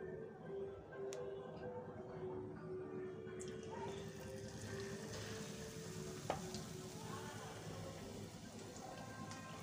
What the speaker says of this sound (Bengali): এবার আমি পেঁয়াজকলির এগুলো এইভাবে ডুবিয়ে ডুবিয়ে বেসনের গোলার মধ্যে তেলের মধ্যে ছেড়ে দেবো।